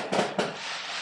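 Fireworks bursting outdoors on Canada Day, two sharp broadband bangs close together followed by a lingering crackly wash of noise.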